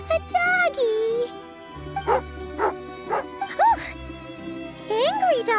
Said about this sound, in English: Angry doggy.